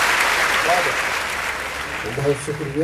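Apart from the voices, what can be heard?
audience applause welcoming the poet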